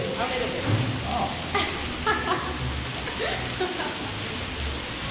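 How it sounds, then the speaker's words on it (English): Steady rain patters on a surface nearby, with intermittent voices and brief background sounds layered over the constant hiss. "It's raining today."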